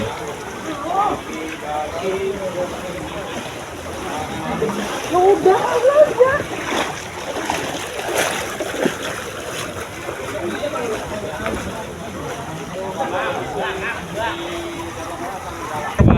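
Water splashing and churning as a rubber boat pushes through deep floodwater, with wind noise and people talking over it throughout.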